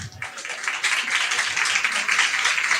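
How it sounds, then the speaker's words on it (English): Steady applause from a crowd fills the whole stretch, a dense wash of clapping with a murmur of voices underneath. "a big round of applause"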